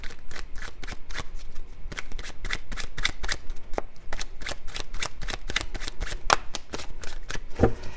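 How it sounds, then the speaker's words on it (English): Tarot cards are shuffled by hand in a quick, steady run of crisp riffling bursts, close and continuous for the whole stretch with no talking. "Let's do Taurus first, and then I'll put the cards back in."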